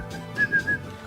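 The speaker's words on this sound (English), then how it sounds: "I think it's supposed to sound like a flute, but it sounds like a really weird keyboard." A short flute-like synthesized lead melody from a Nintendo DS game soundtrack, three clear whistling notes rising and gliding over a soft background.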